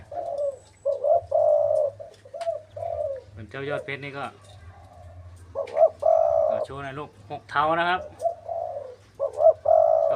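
A decoy dove keeps up close, rhythmic cooing phrases while someone talks between and over them, with a steady low hum running underneath.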